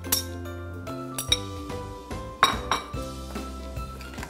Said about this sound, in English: I'm just, you know, whisking it a bit just to help it blend in a little easier